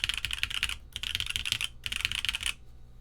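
Typing on a mechanical keyboard with SW Coco Black switches, polypropylene plate and keycaps: quick, close clacking keystrokes in three bursts with short pauses between, at moderate volume.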